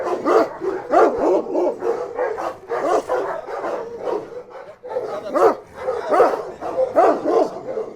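Several dogs at a dog breeding kennel bark over and over in uneven bursts, with a few yips and whimpers mixed in, loud and fairly close throughout.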